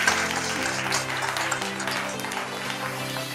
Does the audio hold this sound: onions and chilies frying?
no